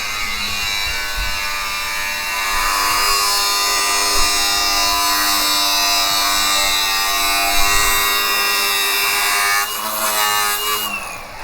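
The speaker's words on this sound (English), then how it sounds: "using a 6-inch grinding or cutoff wheel" A 6-inch grinding or cutoff wheel cuts a small piece of metal meant as a welder box mount, giving a loud, steady, high-pitched whine that runs unbroken for about eleven seconds with no talking.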